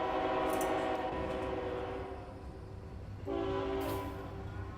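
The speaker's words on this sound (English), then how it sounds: "Got another train." In American Truck Simulator, a freight train rolls past on a route through Montana, its low rumble running throughout while a steady horn blast sounds near the start and again toward the end.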